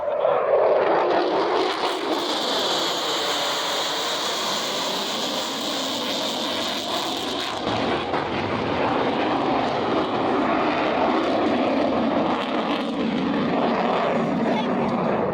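Loud, steady roar of a fighter jet passing overhead at an air show, filling the whole clip with broadband engine noise and a brief shift partway through.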